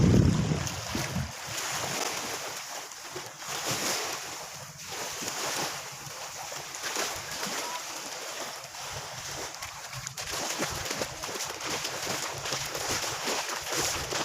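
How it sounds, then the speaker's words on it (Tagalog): A small fishing boat out on the sea to catch crabs, heard as a steady rush of water and wind with a low engine rumble and wave splashes throughout, no talking. "Tuloy yung bangka namin"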